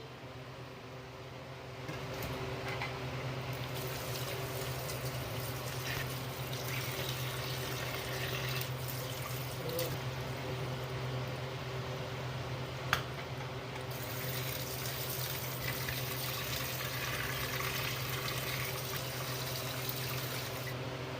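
Beef trotters rinsed under running water in a home kitchen, a steady close splash and pour that starts after a couple of seconds and continues evenly to the end.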